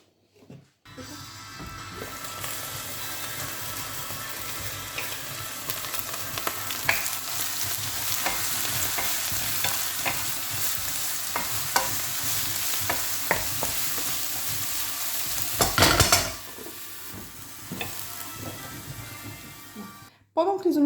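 Onions fry in a pan with olive oil and parsley, giving a steady close sizzle with scattered clicks of stirring, a sharp burst near the end, and faint speech underneath.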